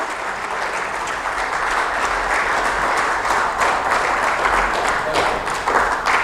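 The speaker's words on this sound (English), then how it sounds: "we can give him a huge round of applause" An audience at a financial markets outlook session claps loudly and warmly, a close, textured roar of many hands with individual sharp claps standing out, continuous and slightly swelling.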